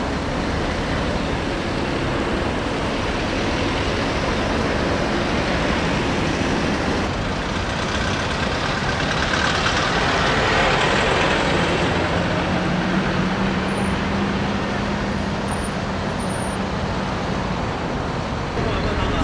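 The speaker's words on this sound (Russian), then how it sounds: "на 5-й окружной дороге Пекина мы создали небольшую получасовую пробку" Dense traffic in a jam on Beijing's 5th Ring Road, a continuous loud roar of engines and road noise with a low vehicle hum rising in the middle and voices faintly mixed in.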